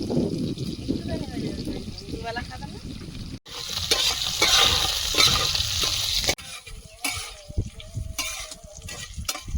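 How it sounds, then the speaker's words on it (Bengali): Potatoes fry in a pan with a hissing sizzle and bursts of bubbling. The sound shifts between louder and quieter stretches, and a person talks nearby. "আলুটা ভাজা হতে হতে পুঁই শাকটা কেটে নেব"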